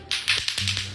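Lato-lato clacker toy, two plastic balls on a string, clacking in a quick series of sharp, bright taps close by, roughly five strikes in about a second with no talking.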